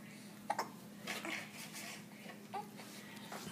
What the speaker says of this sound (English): Aside from the hiccups.